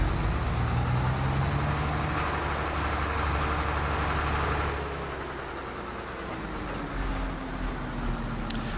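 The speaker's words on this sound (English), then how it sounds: "this is kind of what the engine sounds like in kind of the idle mode" Tractor engine idling in Farming Simulator 22, a steady low rumble with a drifting hum that eases slightly partway through, running alone without talk.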